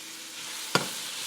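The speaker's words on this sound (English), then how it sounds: "now I am going to go ahead and saute the shrimp and lobster just for a few minutes" Shrimp and lobster sauté in a pot with a steady hiss of sizzling, broken by one brief stirring clatter midway.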